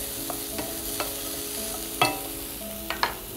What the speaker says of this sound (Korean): 살짝 같이 볶아주세요.